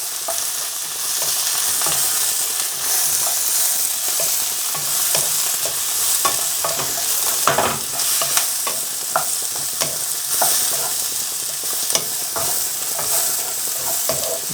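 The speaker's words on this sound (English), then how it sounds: "Now you can gradually fiddle with the temperature until you get that kind of constant sizzle." Close, constant sizzling and crackling of garlic and chicken frying in a hot pan for chicken and cashew nuts, with occasional louder pops and stirring scrapes, no talking.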